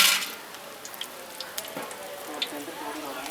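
Cinnamon and whole spices hit hot oil in a pan for vegetable biryani with a sharp burst of sizzle. A steady crackle and spatter follows, with scattered small pops.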